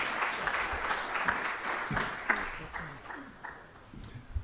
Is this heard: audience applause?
yes